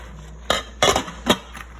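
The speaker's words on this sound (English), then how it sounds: "All right, guys, so we're just gonna put our lid on." A lid set onto a crock pot in a kitchen while hot-process soap is being made: three clear ceramic-and-metal clinks about half a second apart, then a faint fourth, close and fairly loud against quiet room tone.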